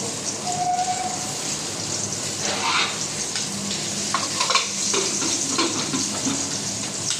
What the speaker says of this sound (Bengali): আর এখানে আমি বেগুন ভাজা বসেছি,